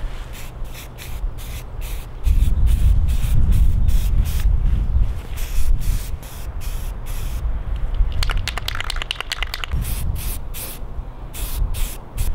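Steady hiss of an aerosol can spraying self-etching primer over bare aluminum spots on a hardtail bike frame in long continuous bursts, close up, with a brief rattling pause partway through.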